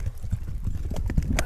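A horse gallops close by with a rider, its hooves striking the ground in a quick, steady clip-clop rhythm over light background noise.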